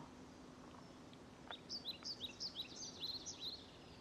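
Small birds chirp in a quick run of high tweets over a soft, steady hiss, fairly faint and distant.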